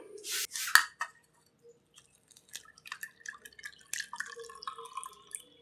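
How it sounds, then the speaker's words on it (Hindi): Blended beetroot juice strained through a sieve into a vessel, with a splash, then scattered close drips and trickles of liquid, soft and irregular, with light clinks of kitchenware. "चलिए, ये हमारा ब्लेंड हो गया है। अब हम इसको छान लेते हैं।"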